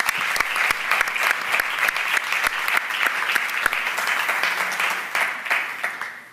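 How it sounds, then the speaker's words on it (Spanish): A crowd applauds steadily for several seconds, dense clapping close by, fading slightly toward the end. "Un aplauso bien para Fernando."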